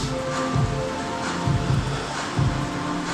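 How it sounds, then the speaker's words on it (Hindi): Steady rain falls in the mountains on a scooter trip near Mukteshwar, a dense, even hiss with a few low thumps and no talking. "पहाड़ों में पहली बार बारिश का एक्सपीरियंस कर रहा हूँ मैं, अच्छा लग रहा है।"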